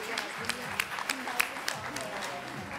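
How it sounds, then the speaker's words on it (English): Audience applause at a women's awards ceremony, a moderate patter of clapping heard under a speaker's continuing talk through the short stretch. "So a big round of applause for Suparna Gupta."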